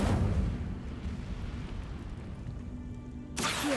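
An Incendio fire spell cast in Hogwarts Legacy gives a steady, dense roaring rumble of flame throughout, with a fresh loud burst right at the end.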